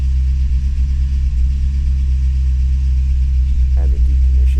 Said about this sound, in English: here's a start of our videos with a cold start with the idle from the